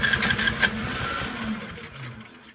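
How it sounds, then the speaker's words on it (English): A snowblower engine runs just after starting, a close, steady mechanical idle with a rapid chugging rhythm that eases and quiets slightly toward the end. "After it starts, you're going to start backing off this switch until it idles at a smooth rate"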